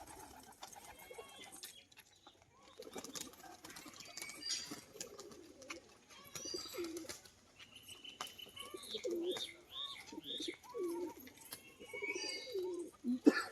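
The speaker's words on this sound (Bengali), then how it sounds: "সাদা চোখো একটা মাদি পায়রা" Female pigeon, white-eyed, cooing in a series of soft low coos that grow clearer near the end, among other birds chirping in the background.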